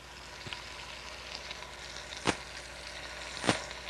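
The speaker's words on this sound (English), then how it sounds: "stir those around and get them coated with the olive oil" Tomatoes sizzling in hot olive oil in a pan for puttanesca, a steady crackling fry with two loud scraping stirs of a utensil standing out clearly above the bubbling.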